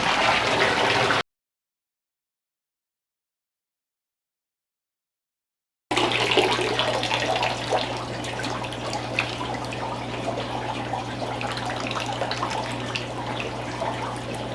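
A pump moves water from a pond into a native fish pond, giving a steady low hum under a continuous splashing trickle of flowing water, with a silent gap early on.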